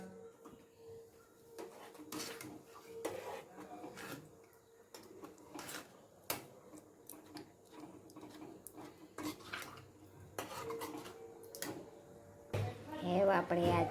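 Boiled vegetables for pav bhaji being mixed in a metal pot, with clanking spoon strikes and scraping against the pot through the clip, fairly quiet, alongside some kitchen clatter.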